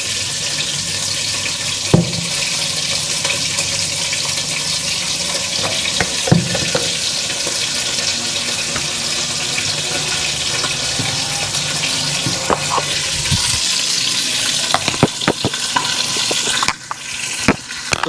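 Chicken frying in a pan at a home kitchen stove, a steady close sizzle and crackle with occasional clinks and scrapes as pieces are stirred and turned, no one speaking.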